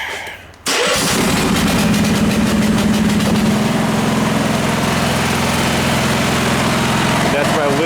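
A Honda garden tractor snowblower engine is cranked with the choke on and catches after a brief pull, then runs loud and close with a steady throbbing idle.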